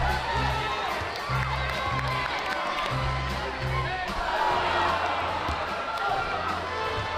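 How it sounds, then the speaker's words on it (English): Crowd in a high school basketball gym cheers, whoops and applauds after a half-court shot, a loud, dense roar that stays steady throughout with scattered shouts on top. "Let's give Kevin a round of applause."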